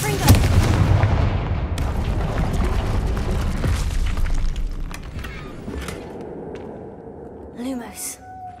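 Blasting spell explosions in Hogwarts Legacy, a loud booming blast that rolls into a long rumbling roar of debris, then fades to sharper crackling hits and a ringing tone, with a voice heard near the start.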